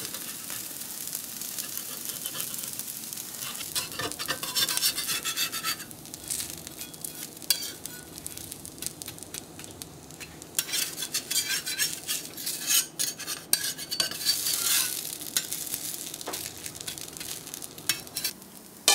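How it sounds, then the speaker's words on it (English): Masala for a dosa filling fries in a pan while being stirred, a continuous sizzle broken by scraping and clinking of the utensil against the pan, close and steady with no talking. "Now when it's fried, start turning"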